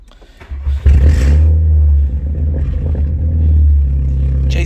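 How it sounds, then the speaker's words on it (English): A BMW Mini JCW Competition Pack with a JCW Pro exhaust starts up: a brief crank, then the engine catches with a loud rev and settles into a deep, steady, throaty run close by. "Let's start the car up."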